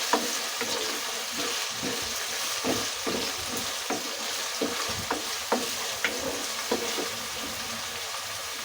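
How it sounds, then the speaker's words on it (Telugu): Onions and green chillies fry in a pan under a continuous close sizzle, punctuated by a regular series of spatula taps and scrapes as they are stirred, with no one talking. "చూడండి, ఉల్లిపాయ పచ్చిమిరపకాయలు వేగుతున్నాయి కదా"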